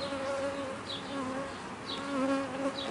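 Bees buzz steadily around a queen bee found in grass near a hive, a close, continuous insect drone with a few brief higher whines passing by.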